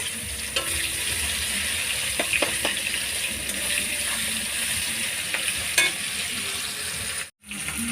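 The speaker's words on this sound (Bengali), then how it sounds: "পেঁয়াজটা ভেজে নেব" Chopped onion fries in hot oil in a kadai with a cumin and bay leaf tempering for a Bengali chicken curry, giving a steady, close sizzle broken by scattered clicks and scrapes of stirring.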